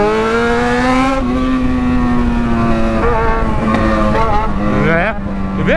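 A Yamaha XJ6 motorcycle revs hard and loud, its engine note climbing steadily through the gears with brief dips at each shift, close to the rider, with no talk over it.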